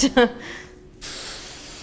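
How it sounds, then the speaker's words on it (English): Hairspray hisses in a steady, close burst onto a styled short haircut during a hair styling class, following a brief moment of voice. "And now we can spray."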